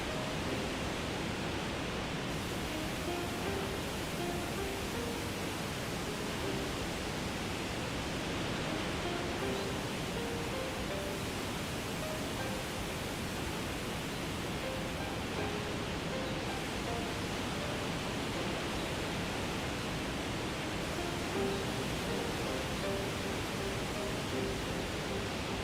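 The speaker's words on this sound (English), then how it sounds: "There are waterfalls." Waterfall ambience from the video game Shenmue 2: a steady, broadband rushing roar of falling water that holds constant throughout, with no talk over it.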